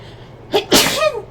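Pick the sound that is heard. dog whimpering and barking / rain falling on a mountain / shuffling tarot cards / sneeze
sneeze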